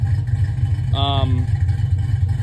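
A cammed 2002 Chevrolet Silverado truck engine idles with a steady, low, loping rumble close by, running continuously beneath someone speaking over it.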